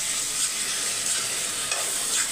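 A chili powder mixture being stirred in hot oil, with a continuous close sizzle and light scraping strokes across the pan, steady and fairly quiet with no one talking.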